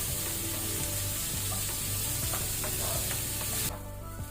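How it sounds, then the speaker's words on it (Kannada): Onions frying in a pan over medium-high heat, a dense continuous sizzle with occasional stirring scrapes and taps, close and steady before cutting off near the end. "ಇಲ್ಲೀಗ ಈರುಳ್ಳಿ ಒಳ್ಳೆ ರೀತಿ ಫ್ರೈ ಆಗಿದೆ"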